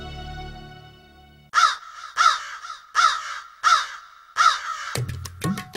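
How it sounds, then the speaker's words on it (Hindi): Crows in a city caw in a series of five loud, evenly spaced harsh calls close by, followed by a quicker cluster of shorter caws at the end. "हम अभी जाकर राजधानी में मौजूद कौवों की गिनती करके लाते हैं"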